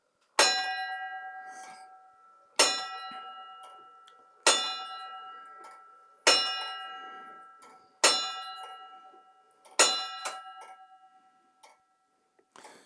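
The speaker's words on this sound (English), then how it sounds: "the 1 hour bell, which is the bigger one, has to start." The larger hour bell of a hobby-built tower clock model strikes six slow, evenly spaced times, each ring bright and metallic and decaying before the next, with faint mechanical ticking between strikes.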